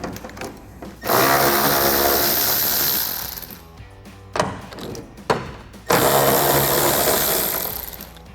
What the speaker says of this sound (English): So to remove our 2 bolts, we can grab an 8mm socket to remove these.